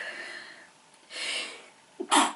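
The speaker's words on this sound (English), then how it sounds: "I'm going to sneeze." A single person's sneeze, a sharp close burst with a short intake just before it, after a quieter breathy stretch.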